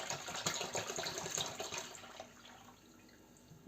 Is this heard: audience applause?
no